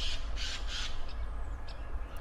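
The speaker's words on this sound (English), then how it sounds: "The sound of the birds chirping away in the trees is very peaceful." Birds call from trees in a park within a 2016 PC video game, harsh caw-like cries repeating a few times over a low steady outdoor ambience.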